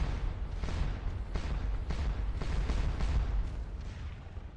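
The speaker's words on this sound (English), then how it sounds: "I have my horse artillery bombing away on them." Horse artillery cannons fire in the Napoleonic wargame Scourge of War Waterloo, a run of heavy booms about every half second over a rumbling battlefield backdrop, loud and without talk.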